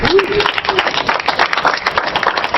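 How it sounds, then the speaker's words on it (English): Applause for a host organization at a startup community event in Madison, a dense burst of clapping from an audience with voices mixed in, loud and close, running steadily throughout. "We can give them a round of applause"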